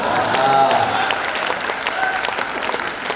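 Loud, sustained audience applause at a Hindi comedy poetry event, a thick crowd of clapping that peaks early and tapers slightly, with faint voices underneath.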